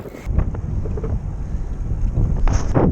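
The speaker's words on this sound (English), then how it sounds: "Got a little bit of a headwind today, but not nearly as bad as yesterday." Strong headwind buffets the microphone while cycling through northern Spain, a loud continuous low rumble with gusty bursts near the start and end, no talking.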